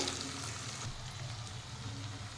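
Steady low sizzle of a mango-egg curry frying in a pan as chopped tomatoes are stirred in, a soft continuous crackle with faint scraping, no talking.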